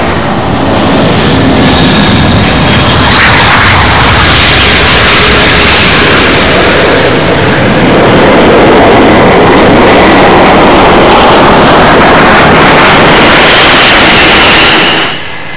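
The six turbofan engines of the Antonov An-225 Mriya winding up on the runway at Farnborough, a loud, broad roar that builds and swells over about fifteen seconds before easing slightly at the end.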